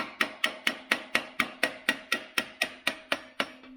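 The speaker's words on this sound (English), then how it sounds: "I'm actually going to take a little hammer and just tap on this" A small hammer taps on loose wheel cylinders while a Toyota Land Cruiser FJ40 axle is being taken apart: fourteen sharp metallic strikes in an even, brisk rhythm, close up, with no talk.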